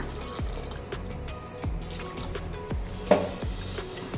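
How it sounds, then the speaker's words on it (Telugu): Water poured a little at a time into a cooking pot of potato chicken curry, heard as soft liquid splashing with several dull thuds and a brief clink, close and fairly quiet. "ఇక్కడ నేను నీళ్లు పోస్తున్నాను కొద్దిగా."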